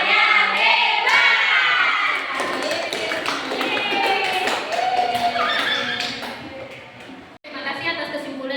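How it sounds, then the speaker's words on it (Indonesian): A class of children claps a rhythmic 'tepuk hebat' clap chant, with sharp, loud claps under their chanting voices in a classroom, stopping briefly near the end before picking up again. "Yuk, kita tepuk hebat semuanya."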